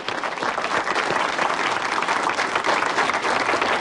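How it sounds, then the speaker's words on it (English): A live audience applauds in a steady, dense burst of clapping to welcome performers on stage, with scattered cheers mixed in. "Let's hear it for Greg and John Rice"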